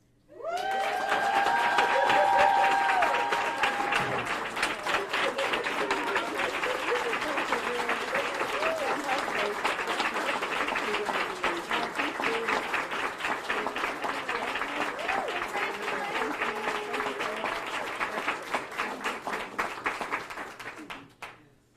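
A long round of applause mixed with cheers from a crowd at a Senate gathering, loud and sustained for about twenty seconds, with whoops early on before it stops abruptly.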